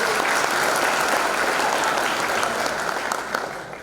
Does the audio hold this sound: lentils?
no